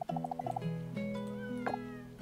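Cartoonish cat meowing in the farming life-sim game Coral Island, a quick series of short mews followed by longer drawn-out meows, loud and close, set against steady game background music with no one talking.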